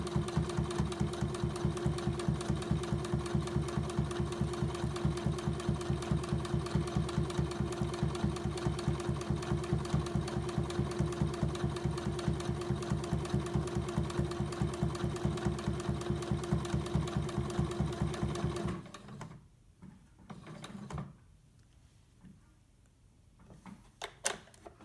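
A sewing machine stitches a fabric face mask in a fast, steady mechanical rattle for most of the stretch, then stops abruptly, followed by a few faint handling clicks and knocks.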